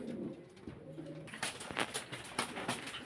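Lotan pigeons coo softly in a loft, repeated throaty burbling calls rising and falling at close range, with no talking.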